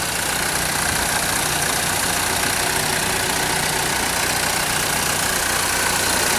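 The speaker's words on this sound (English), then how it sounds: "Let me open the engine and I'll show it to you." A 2011 Buick Regal engine runs at a steady idle with the hood open, a constant broadband hum and whir filling the whole stretch with no break and no voices.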